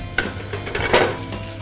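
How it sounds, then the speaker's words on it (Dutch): Red mullet fries skin-side down in olive oil in a Teflon pan over low heat, a steady soft sizzle with a few brief scraping or stirring touches, close and alone. "Dus zo gaan we op de huidkant met het brood erop op een laag vuur en een teflonpan die niet plakt."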